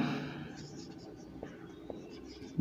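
Pen writing on paper during an online English class, a faint continuous scratching under soft speech near the start.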